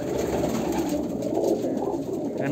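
Kalanka pigeons of Andhra pure bloodline coo steadily together in a loft, a dense, low, continuous murmur of overlapping calls close by with no talk.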